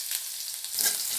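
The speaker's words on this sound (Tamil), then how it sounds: "இடித்து வச்ச பூண்டையும் சேர்த்துக்கிறேன்." Crushed garlic and dried chili sizzle in hot oil in a pan, a close, steady crackling fry that swells slightly louder toward the end.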